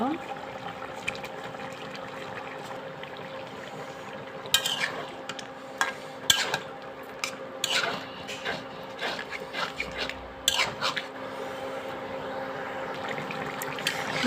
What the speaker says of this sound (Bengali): লাউ আর আলুটা ভালোভাবে কষিয়ে নিতে হবে এভাবে